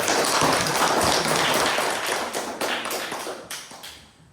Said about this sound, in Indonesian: kita berikan aplaus yang meriah dulu